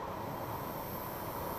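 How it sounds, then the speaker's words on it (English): An underground train bound for South Kensington in an audio drama: a steady, full rumble of carriages and rails with a faint wheel squeal, continuous and close, with no voices. "This is the train to South Kensington."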